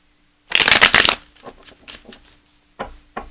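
Tarot cards are shuffled close up in one quick riffling burst, followed by soft handling taps and a couple of light card slaps.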